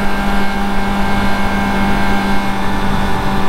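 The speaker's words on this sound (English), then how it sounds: "is there a vibration around 6K RPMs in first gear?" A Honda E-Clutch motorcycle held around 6,000 RPM in first gear gives a loud, steady engine drone with a constant buzzing hum and no pauses.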